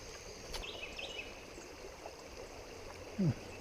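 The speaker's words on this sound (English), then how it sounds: "Looks like a nice little rapid down there." A river on the Buffalo River in the Erbie area runs over small rapids, a soft steady wash heard from some distance, with a brief low voice-like sound near the end.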